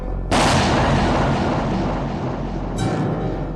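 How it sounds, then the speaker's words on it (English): A single loud gunshot from the film Zardoz cracks out close and booming, its tail rolling off slowly, followed by a second, fainter blast shortly after. "one shot with a gun and bang!"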